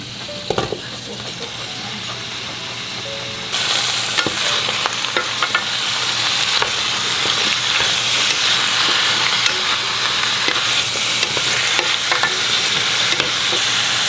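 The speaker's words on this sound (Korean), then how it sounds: "고추기름을 아주 조금만 넣어주었습니다. 그리고 양파를 넣어주세요. 콩마늘 넣어주고" Onion and a little garlic dropped into a small amount of chili oil, a constant loud sizzle that jumps louder as the onion hits the pan, with scattered crackles and occasional pan clinks over a long stretch.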